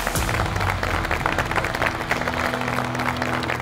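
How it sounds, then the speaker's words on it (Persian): Applause from a room of players after a Mafia party game round, dense continuous clapping, close and fairly loud, steady for a few seconds with a faint voice underneath. "تشویقشون کنیم"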